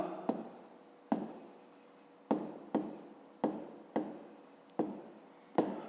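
Pen writing down a measurement on paper, close and quiet, a series of about seven short scratchy strokes in a loose steady rhythm, each one fading before the next, with no talking.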